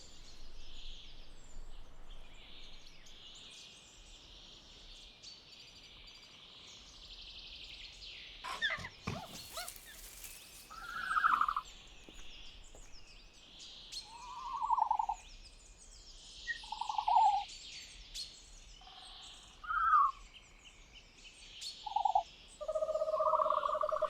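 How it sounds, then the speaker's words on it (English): Dilophosaurus call sound effect, a series of short hooting, owl-like calls repeating at irregular intervals over a faint ambient hiss, with a brief rustling burst partway through. "That's the call of Dilophosaurus weatherilli."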